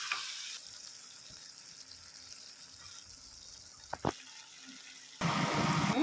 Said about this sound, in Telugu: తర్వాత కొన్ని వాటర్ యాడ్ చేస్తాను.